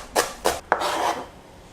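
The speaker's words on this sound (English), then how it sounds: "Now I have few bok choy leaves that I am going to slice finely." A knife slices finely through bok choy leaves on a board for a vegetable omelette sandwich, giving three quick rasping cuts, the last drawn out into a longer scrape, close and fairly loud with no talk.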